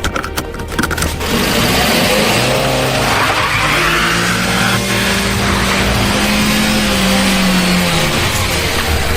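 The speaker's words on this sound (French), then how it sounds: "Pashka, accélère, dépêche-toi, Pashka." A car accelerates hard on a street corner with a loud, sustained engine roar and rising tire skid squeal that stays near and full for the whole stretch, with no talking.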